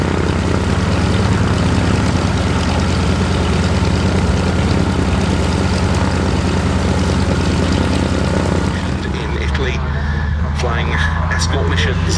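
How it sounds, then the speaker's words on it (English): A Yak-3 piston-engined WWII fighter takes off from the hard runway at Duxford airshow, its propeller engine a loud, steady, close roar that holds for about nine seconds, then thins and eases away in the final moments. "Getting airborne off the hard runway now, the Yak 3"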